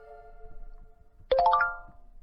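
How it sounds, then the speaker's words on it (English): A phone message notification gives a single bright, close ding that rings out and fades over about a second, alone against a soft, steady background tone. "phone dinged with a message"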